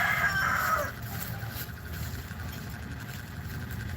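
A rooster crows once near the start, a short bright call that fades by about a second, over a steady low background rumble like an idling engine.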